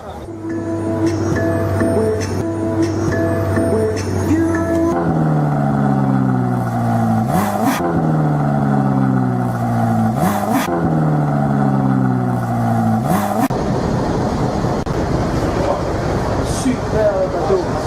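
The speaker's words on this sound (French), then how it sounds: "Je vous emmène faire un tour de Ferrari." A Ferrari engine revs repeatedly, climbing in pitch through several gear changes with brief drops between, loud and close.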